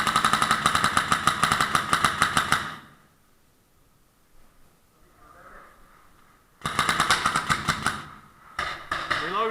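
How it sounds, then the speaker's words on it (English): Rapid paintball gunfire in an urban paintball game, two sustained bursts of fast mechanical popping shots separated by a quiet pause, loud and close. "A few quick bursts of gunfire take out all the players around it"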